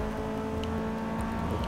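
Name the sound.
race car engine accelerating in video game Forza Motorsport 6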